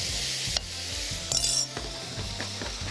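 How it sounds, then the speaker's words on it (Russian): Pasta with duck and pumpkin sauce is stirred with a spoon and moved into a frying pan, giving close clinks and scrapes of metal against cookware over a steady sizzle. "Сейчас я сначала взбодрю ложкой, а потом быстро выложу на сковородку."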